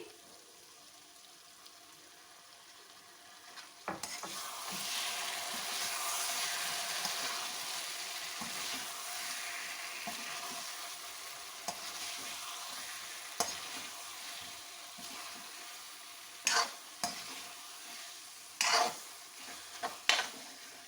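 Potato pieces fry in hot spiced oil for dum aloo while being stirred, a steady sizzle with sharp scraping clinks of the spoon toward the end, close and alone.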